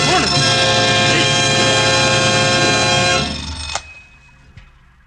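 A harsh, continuous alarm clock ring blares loudly for about three seconds in an old-time radio drama, then cuts off, leaving a couple of faint clicks in near silence.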